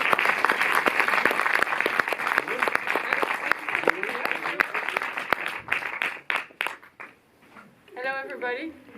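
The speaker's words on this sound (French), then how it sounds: "j'invite à me rejoindre la réalisatrice Shamira Rafaela et Chabou, sous vos applaudissements." An audience at a Paris cinema's post-screening discussion applauds to welcome a film director, a loud, sustained burst of clapping that thins and fades before a voice begins speaking near the end.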